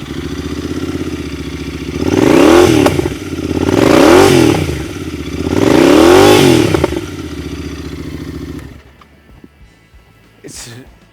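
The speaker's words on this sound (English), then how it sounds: "let me just show you how it sounds" A Royal Enfield Continental GT 650 motorcycle with an aftermarket exhaust revs three times in a row, each throttle blip rising and falling over a steady idle, close and loud, before the engine cuts off to near silence.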